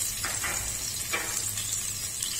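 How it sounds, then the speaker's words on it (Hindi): Cumin seeds, a pinch of asafoetida and finely chopped green chillies sizzle steadily in hot oil, a continuous crackling fry with a few brief louder spits and no talking. "ऑयल गर्म हो चुका है, अब डालेंगे 1/2 टीस्पून जीरा, 2 पिंच हींग"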